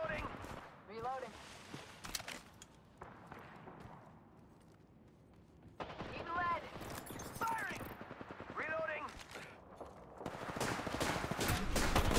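Rapid automatic gunfire and scattered shots from the video game Apex Legends come in bursts, mixed with game voice callouts, effects and player talk over a busy, uneven background.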